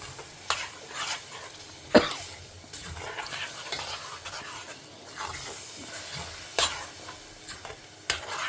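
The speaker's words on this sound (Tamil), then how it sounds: "ஒரு 2 மினிட்ஸ் வதக்கலாம்." Onion and tomato paste sautéed in a pan, a steady soft sizzle with intermittent scraping stirs and a few sharper utensil knocks against the pan, heard up close with no talking.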